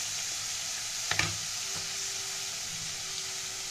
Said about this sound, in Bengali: পেঁয়াজ বাটাটা দিয়ে একটু তেলের সঙ্গে নেড়ে নিয়ে